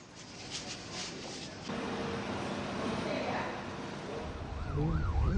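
An ambulance siren, tied to ambulances carrying road accident victims from Gresik, swells in near the end as a wavering, rising and falling wail. It sits under a news narrator's voice and background noise.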